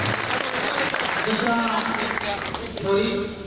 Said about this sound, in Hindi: एक बार वीर जी के सम्मान में जोरदार तालियां बजाइएगा साहब।